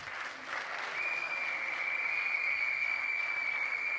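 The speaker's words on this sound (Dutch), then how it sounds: "Applaus, alstublieft." Audience applause at a Leiden youth sports awards ceremony honoring a basketball team that won the national second-division title, sustained dense clapping from a hall full of people, building slightly and holding steady with a faint whistle-like tone.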